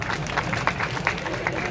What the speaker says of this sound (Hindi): ये तालियां आपके लिए हैं